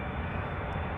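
A two-year-old Boeing 777-300ER, first flown in January 2021, touches down at Amsterdam Schiphol on runway 06 after a long-haul flight, its engines giving a steady, loud broadband roar that holds evenly for a second.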